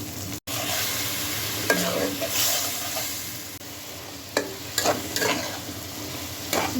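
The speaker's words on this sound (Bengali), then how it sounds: "মশলা, চিংড়ি মাছ, পেঁয়াজ, কাঁচামরিচ একটু কষিয়ে নিচ্ছি" Spices, fresh shrimp, onion and green chilli frying together in a pan for a stalk-and-shrimp curry. A loud, continuous close sizzle is broken by occasional scraping stirs, with no one talking.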